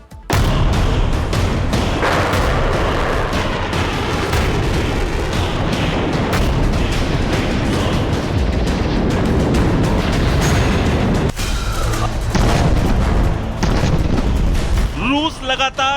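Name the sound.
missile strikes and explosions in Russia-Ukraine war footage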